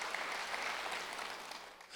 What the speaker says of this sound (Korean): 박수를 하나 더 해주세요.